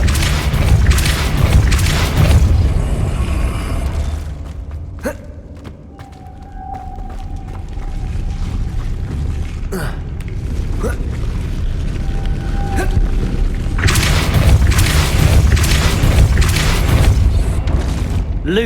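In the Hogwarts Legacy video game, a Depulso spell blast booms with a deep, heavy rumble, standing out among other game effects and a spoken voice across the sequence.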